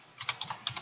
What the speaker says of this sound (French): vous allez cliquer sur la touche Windows de votre clavier